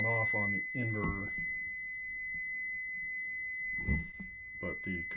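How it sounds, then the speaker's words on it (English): A solar inverter sounds a steady, high-pitched overload alarm tone that holds unbroken throughout, with someone talking over it at the start and end. "the alarm is going off on the inverter"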